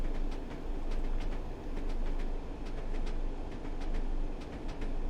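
A train running on rails in the video game Train Sim World 5, slowing as it enters the platform at Middlesbrough, gives off a steady rolling rumble with regular clicking wheel beats, with no one talking over it.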